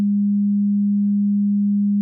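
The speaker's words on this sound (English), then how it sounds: "For this, I'm going to switch over to the sine wave." A synthesizer set to a pure sine wave holds one steady, unwavering low tone, clean and alone from start to finish.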